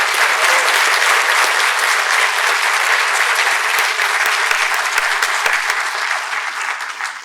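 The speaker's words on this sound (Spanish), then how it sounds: "les pido un aplauso para ellas y ellos" Audience applause at a book presentation event with students, faculty and officials in Mexico City: loud, dense crowd clapping sustained throughout, tapering slightly at the end.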